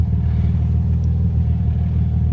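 A Toyota Tacoma truck engine runs in cold, snowy weather with a steady, deep, rumbling idle, close and continuous for a couple of seconds.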